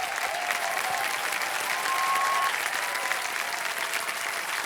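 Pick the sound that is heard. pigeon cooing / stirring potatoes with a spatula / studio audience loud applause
studio audience loud applause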